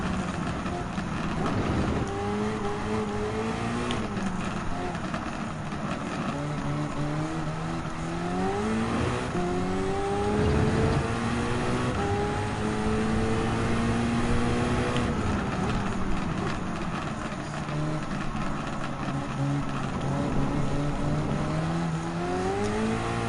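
Race car engine in the Gran Turismo 7 racing game during a Halloween weekly challenge, a steady loud drone whose pitch climbs and falls through gear changes, continuous across the whole stretch with no talk.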